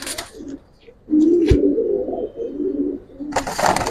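Silver Giribaz pigeons cooing close by, a low throaty rolling coo repeating in bursts, with brief chirps and light rustling between them; no speech.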